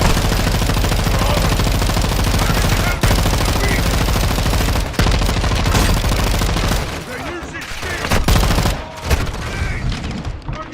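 Sustained machine gun fire rattles in Call of Duty: Modern Warfare II, dense loud bursts running almost continuously, broken by a couple of brief gaps before thinning into scattered shots near the end.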